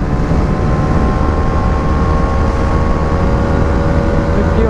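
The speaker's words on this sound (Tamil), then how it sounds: "இந்த வண்டி 5th கியர்ல போறதுதான் நம்ம V3-ஓட டாப் ஸ்பீடு." A Bajaj Dominar 400 motorcycle engine held at top speed in 5th gear, a loud, steady, continuous drone with wind rush and no talking.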